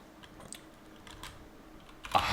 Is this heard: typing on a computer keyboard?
yes